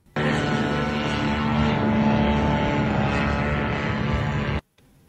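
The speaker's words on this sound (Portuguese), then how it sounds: "De novo foi aquele dronezinho ucraniano mesmo, dá para ouvir o barulho dele, olha só." A small Ukrainian attack drone flies overhead with a loud, steady, moped-like engine buzz that holds for several seconds and then cuts off abruptly.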